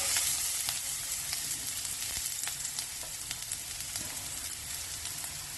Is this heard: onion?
yes